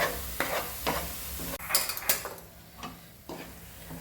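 Chole masala sautéing in oil in a pan, with a steady sizzle and repeated scraping stirs of a spoon against the pan, close and fairly loud, no talking.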